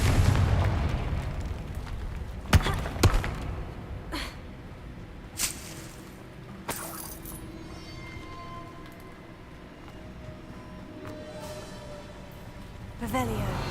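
A Confringo spell is cast in the Hogwarts Legacy video game, setting off several sharp booming bursts and explosive pops that stand out over a softer game soundscape.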